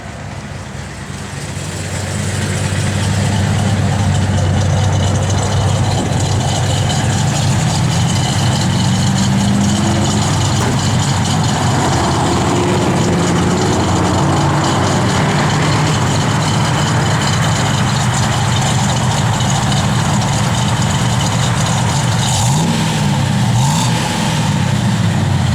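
A 1970 Chevrolet Chevelle SS convertible's engine starts and settles into a loud, steady idle, its deep rumble holding close and continuous with a few rev swells throughout.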